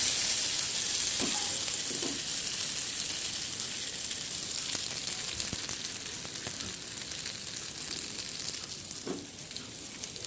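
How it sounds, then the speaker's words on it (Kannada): Stuffed eggplants sizzle in a hot pan, a bright, hissing fry that stays fairly even throughout, with a few soft clinks and scrapes, and no voices. "ಬದನೆಕಾಯಿಗೆ ತುಂಬಿದ ನಂತರ ಆ ಬಾಣಲೆಯಲ್ಲಿ ಒಂದೊಂದಾಗಿ ಬಿಡಬೇಕು."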